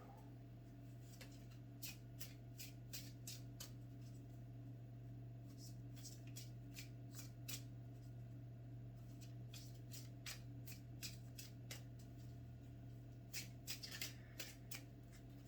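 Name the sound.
shuffling oracle cards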